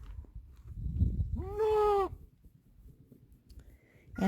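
A young goat in a barn gives a single clear, drawn-out bleat midway through, surrounded by soft rustling and low background noise, with another call starting at the very end.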